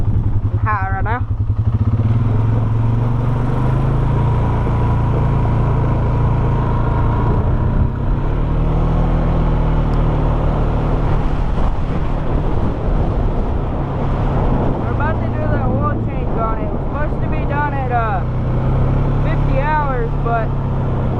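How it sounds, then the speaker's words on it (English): A Polaris Sportsman 570 SP ATV ridden at close range, its engine droning steadily and loudly throughout with revs rising and falling, rattling over terrain, and a voice speaking over it at times. "Let's do a little quick ride on it."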